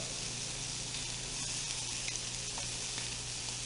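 Shrimp in their shells are flipped in a hot pan for grilling, and a steady, close sizzle hisses on without break, with faint crackles and no talk.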